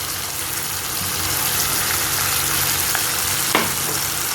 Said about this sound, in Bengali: এবার এখানে আমি টমেটো সস আর একটু সয়া সস মিলিয়ে রেখেছি, এটা এখানে আমি দিয়ে দেব।